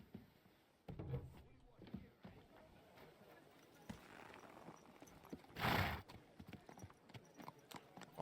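Horse hooves clip-clop on the ground in Kingdom Come Deliverance 2, with a whinny, a loud close burst near the middle and scattered hoof thuds around it.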